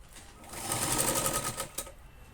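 Sewing machine running steadily while stitching a box-shaped piece of a katori blouse, a continuous close whirring burst lasting about two seconds with no talk over it.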